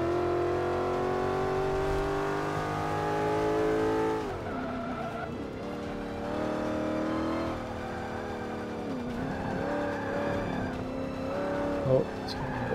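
A loud race car engine in Forza 5 revs and climbs through gears, dropping pitch at shifts, with squealing tires and a sharp bump near the end.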